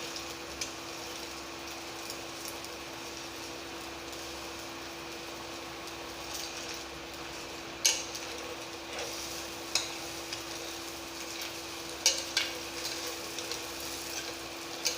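A chicken egg dosa fries on a pan over a slow fire, a soft, steady sizzle running throughout with a few faint ticks and light clicks from the pan.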